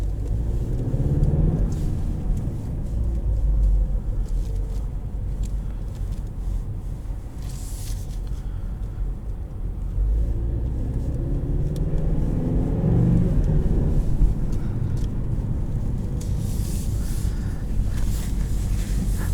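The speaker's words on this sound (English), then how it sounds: "It's an awesome transmission, honestly. Rev matches down into first." A 2020 Ford Mustang EcoBoost convertible with a 10-speed automatic rev-matching on a downshift into first: a low, steady engine drone mixed with road and wind rumble, heard from inside the car, swelling briefly around the middle, with no talking.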